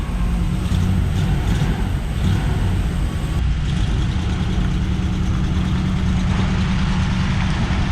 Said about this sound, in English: Definitely sounds like a vacuum leak.